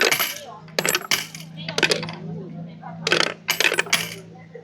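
Several coins clink and rattle as they drop into a fortune-slip machine at a Japanese shrine, a few bright metallic bursts over a low steady hum, with brief speech between them.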